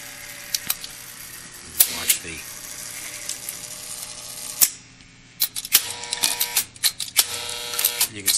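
A Williams Music Mite jukebox mechanism whirs and clicks as it drops records, with repeated sharp mechanical clacks and thumps over a steady hum, heard close and mostly alone.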